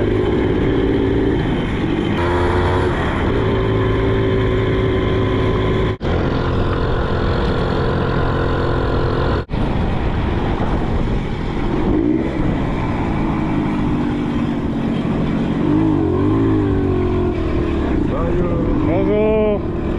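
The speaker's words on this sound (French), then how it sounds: "Petit démarrage à la poussette." A motorcycle engine runs steadily after a push-start during a round-the-world motorcycle trip through Togo, a loud continuous drone with wind rush and a couple of brief dips, heard up close from the rider's position throughout.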